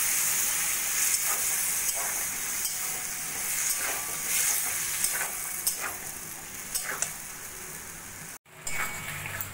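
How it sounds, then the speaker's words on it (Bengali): Potatoes and pointed gourd frying with spices after a splash of water, a steady loud sizzle and hiss with spoon stirring scrapes throughout, briefly cutting out near the end. "মিক্সির জলটা দিয়েও ভালো করে আমি একটু কষিয়ে নেব।"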